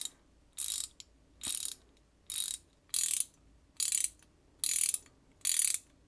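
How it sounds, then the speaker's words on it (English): Seven evenly spaced bursts of bright rapid clicking from a 90-tooth chrome vanadium ratcheting wrench, each about half a second long with quiet gaps between, close and alone with no talk. "This is a 90-tooth ratchet."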